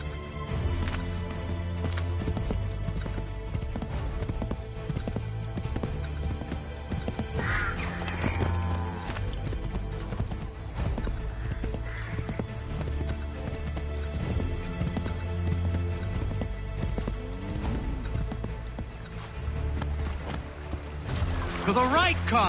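In Assassin's Creed III, a horse gallops with rapid, rolling hoofbeats that run through most of the scene, mixed with game music, splashes and brief shouted voices.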